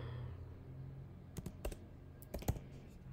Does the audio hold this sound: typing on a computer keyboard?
yes